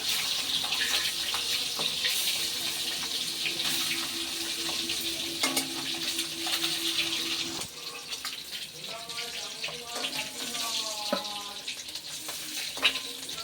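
Eggs frying lightly in oil in a pan, a steady soft sizzle with occasional stirring clinks and scrapes, a voice talking quietly in the background.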